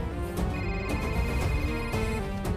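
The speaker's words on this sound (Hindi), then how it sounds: "उसी का फोन आ रहा है सर।" A telephone rings with an incoming call in a South Indian action movie scene, a repeated electronic ringtone with tonal pulses sounding loud and close, with faint background sound and no talk.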